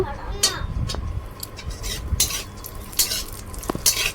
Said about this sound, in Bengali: কাজুটা ভেজে নিচ্ছি প্রথমে ঘিতে, তারপরে নামিয়ে নেব।